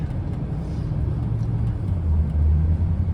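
A 2003 Ford Thunderbird drives with a steady low engine and road rumble, pitch shifting a little as gears change roughly, close and moderately loud with no talking.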